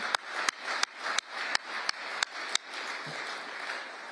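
An audience at the Justice Department applauds during remarks by Donald Trump, a wash of clapping with sharp, evenly spaced accents like a rhythmic beat running through it.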